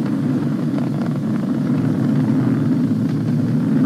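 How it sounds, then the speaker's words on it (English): Falcon 9 rocket engines rumble in a steady, heavy roar while throttling down during launch, a broad low-pitched din with no voices over it. "We're throttling down to get ready for the period of maximum dynamic pressure."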